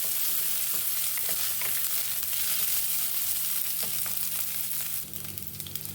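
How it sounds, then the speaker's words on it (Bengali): Rice sizzling and frying in hot oil in a pan over a low gas flame, a continuous close crackle with occasional stirring scrapes and no voices. "এবার তেলের মধ্যে দিয়ে এটা ভেজে নেব গ্যাসের ফ্লেমটা কমিয়ে দিয়েছি দিয়ে হালকা করে ভেজে নিচ্ছি"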